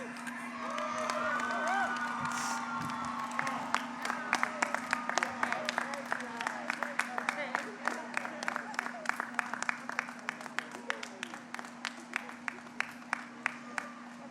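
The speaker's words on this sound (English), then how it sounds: "Let's give our Val and Sal another round of applause." A high school graduation audience at Benjamin E. Mays High School in 2021 applauds: sustained clapping with scattered sharp claps and cheers builds through the hall over a steady hum.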